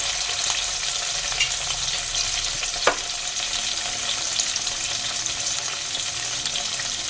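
Ground spices and ginger paste sizzling in hot oil for a vegetarian chhanar dalna cottage cheese curry, a steady, moderately loud fry with one brief sharp clink partway through.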